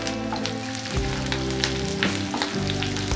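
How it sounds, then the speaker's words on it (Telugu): Curry leaves and green chillies fry in hot oil with a dense, steady crackle and sizzle, close and loud, with occasional sharper pops and a few stirring scrapes. "సో కరివేపాకు చిట్పట్ అనే సౌండ్ అంతా పోయేంత వరకు మనం ఫ్రై చేసుకోవాలన్నమాట."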